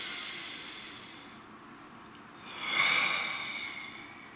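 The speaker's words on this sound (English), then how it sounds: "Nice deep breath," A single slow, deep breath drawn in and let out, faint and airy at first, swelling louder toward the end, with no talk.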